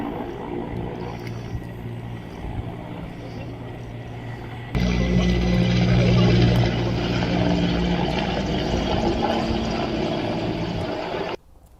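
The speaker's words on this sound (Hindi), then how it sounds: "आग बुझाने के लिए हेलीकॉप्टर का ऑपरेशन इस समय जारी है" An Indian Air Force helicopter works over burning hills near Eklingarh cantonment in Udaipur during a firefighting operation, its engine and rotor making a steady loud drone that swells louder midway and then cuts off abruptly.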